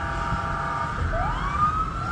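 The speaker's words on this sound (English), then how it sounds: "the police boat is throwing up their sirens for somebody over there on a jet ski" A police boat's siren wails out on open water off Miami, a steady electronic tone that begins to sweep upward, heard at a moderate distance over a constant low engine and water rumble.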